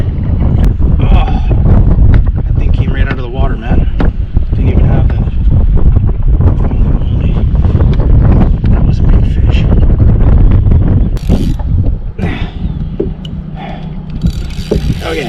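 Strong wind buffets the microphone during kayak fishing on White Lake, Ontario, a loud continuous roar with gusts and splashy water noise, occasional talk mixed in.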